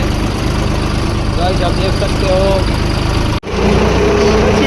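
A tractor engine runs steadily nearby with a throbbing rumble. Voices are heard faintly over it, and a short sharp break comes near the end.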